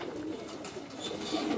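Soft, low cooing of Teddy pigeons murmurs continuously, faint and close, with no voices present.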